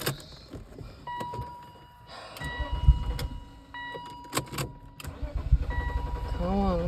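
A BMW E39 engine cranks but fails to catch, with short bursts of starter whirring broken by pauses and clicks, close and moderately loud, while a person talks in between.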